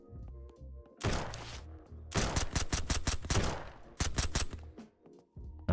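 Gunfire in the survival shooter Surroundead: bursts of loud, close rapid shots in three clusters, with sharp cracks and booming low end separated by brief quieter gaps.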